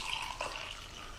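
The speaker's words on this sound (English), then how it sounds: "We will add our hot water." Hot water is poured into instant tea powder from a British Army ration pack in a short, quiet liquid trickle lasting about a second.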